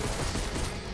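Rapid pistol gunfire in Fortnite, a dense loud burst of shots packed closely together over a second, with no voices.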